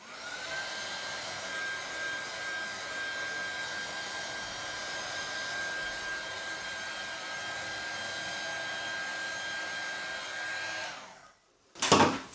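A heat embossing tool blows hot air onto a warping card with a loud, steady, close whirring roar that holds for about eleven seconds, then cuts off abruptly and is followed by a brief clatter.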